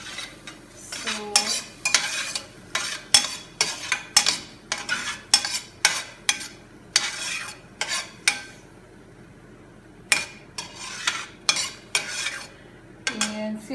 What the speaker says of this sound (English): you saute approximately 3 to 4 minutes the onions